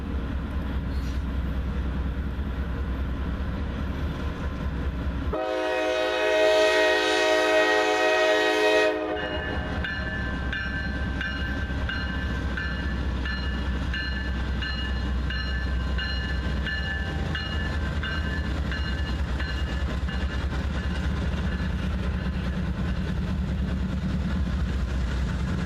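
A Norfolk Southern westbound freight train rumbles past near Stevenson, Alabama, its horn sounding one long, loud blast early on over the continuous roar of the locomotives and rolling cars.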